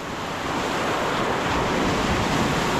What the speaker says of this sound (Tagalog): Lakiya na yung alon